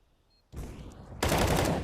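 Gunfire through smoke in Counter-Strike: Global Offensive: a rapid burst of automatic shots, followed by a louder, denser burst, each cutting in abruptly.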